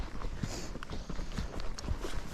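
A Tennessee Walking Horse moving along a trail, its hooves giving soft, uneven thuds with a slight stumble, close by under steady background noise and no talking.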